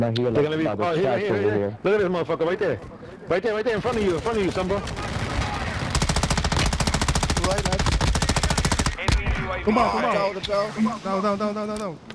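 Rapid automatic gunfire bursts from Call of Duty Warzone 2.0 rattle loudly in sustained volleys, mixed with game sounds while players talk over them.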